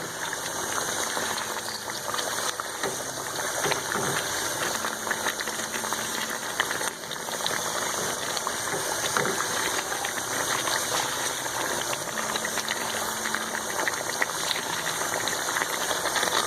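Chicken with ginger and garlic sizzling in a karahi, a steady dense frying hiss that runs without a break, with faint clinks now and then.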